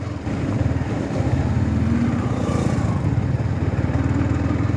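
A Yamaha MT-15 motorcycle rides along a road during a braking test, its engine a close, steady, buzzing drone with a rapid pulsing beat and a slight swell partway through.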